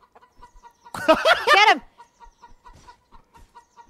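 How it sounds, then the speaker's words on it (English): A chicken in the video game Bear Simulator gives a burst of loud, rapid clucking under a faint repeating game tone, with a brief shouted voice. "Whoa, is that a fucking chicken?"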